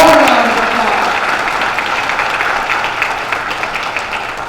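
Brunch guests give a loud, dense round of applause for Colleen Jean-Pierre that swells at once and slowly fades, with a voice briefly heard at the start.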